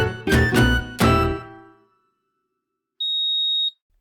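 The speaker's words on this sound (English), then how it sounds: "this alarm is going off" A smoke alarm sounds one steady high beep lasting under a second, clear and close, following a short burst of louder music or sound.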